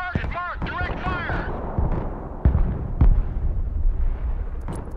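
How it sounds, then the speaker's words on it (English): In the video game Broken Arrow, artillery shells land with heavy, booming blasts in a short cluster. A voice talks briefly before the impacts and a rumbling battle noise continues under them. "The artillery's gonna hit."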